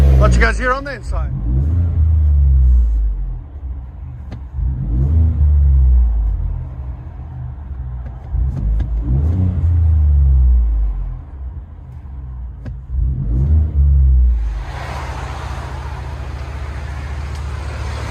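Ford F-150 EcoBoost V6 with an aftermarket loud exhaust, heard from inside the cab as repeated deep revving surges that swell and fall, a low droning rumble with a brighter hiss near the end.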